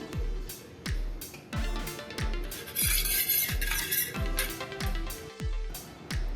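Cake batter with vanilla essence being mixed in a bowl for an eggless sponge coffee cake, a spoon knocking and clinking against the bowl in a steady repeated rhythm, close and fairly soft, with no talk.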